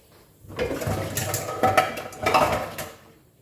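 A lid set over a pan of Goan squid chilli fry, a cluster of metallic clatters and scrapes as it is handled and settled into place, close and loud before going quiet.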